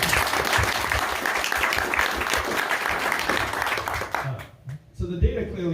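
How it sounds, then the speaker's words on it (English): A house-party crowd at a political speech breaks into applause, loud sustained clapping that fades after about four seconds, followed by a voice speaking. "Let's give a round of applause."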